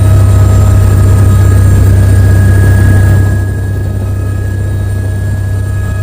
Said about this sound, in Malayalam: ഹെലികോപ്റ്റർ പറക്കാൻ പോവാണ്.